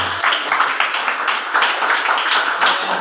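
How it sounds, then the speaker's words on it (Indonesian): Applause at a Christian church sermon or Sunday school gathering: a steady, dense patter of hands clapping that fills the whole stretch at a moderate, even loudness, with no voices over it. "Tepuk tangan berikan kepada"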